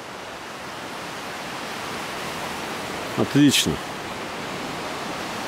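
The Ruhr river flows with a steady, broadband rushing of water throughout, and a brief spoken word cuts in near the middle.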